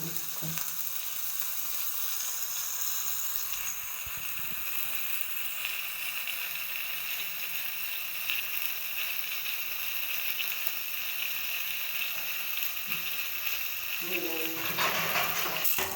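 Butter melts over a low gas flame while being cooked down into ghee, giving a steady, even sizzle and hiss through the whole stretch, with a voice faintly present in the background.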